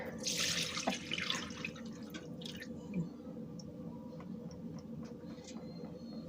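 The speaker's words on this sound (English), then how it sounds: "it takes a minute to drain because of the coffee filter that's in there" Liquid from homemade basil-amla hair oil trickles and drips slowly through a coffee filter into a container, a soft, continuous watery patter close by with occasional louder drips and no talk.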